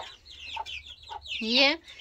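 A hen perched in a tree beside a chick gives a few soft clucks, then a louder, drawn-out call near the end, heard close with light background noise.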